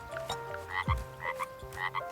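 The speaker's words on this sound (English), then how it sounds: "There's frogs." Frogs in the video game Verdant Skies croak in short, repeated bursts, clear and fairly close over a soft game ambience.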